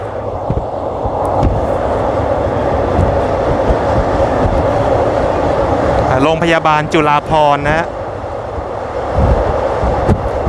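Steady rumble of a train ride from Krung Thep Aphiwat Central Station toward Don Mueang, wheels droning throughout with a brief squealing, warbling tone midway, while a person talks over it.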